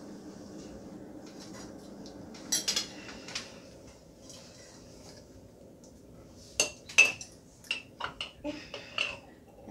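A knife scrapes and clinks while peanut butter is spread across sandwich bread, with faint rubbing early on, then a burst of sharp metallic taps and scrapes against the jar or plate near the end.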